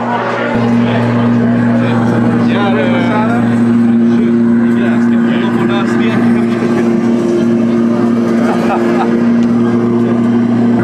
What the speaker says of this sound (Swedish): Vi har gräsklippare här inne just nu.